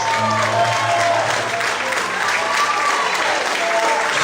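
A church congregation bursts into applause during an evening sermon, a dense steady wash of clapping with crowd voices and a faint sustained musical tone underneath.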